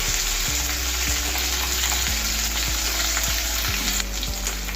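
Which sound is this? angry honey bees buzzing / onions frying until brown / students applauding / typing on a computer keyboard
onions frying until brown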